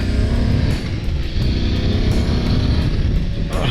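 A 2021 BMW F 850 GS motorcycle out on a ride: a steady, loud engine drone mixed with wind rush from the rider's position, fairly even throughout with slight surges and no speech.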